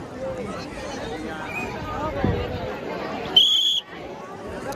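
Large crowd gathered for a Shiv Mahapuran katha in Shirpur, a steady dense hubbub of many voices chattering, with a brief whistle-like tone rising near the end.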